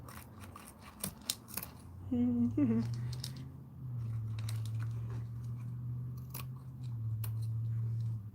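Scissors snip off excess hair while making a ponytail hat, several sharp close snips spread across the stretch, with a brief voice and a low steady hum underneath.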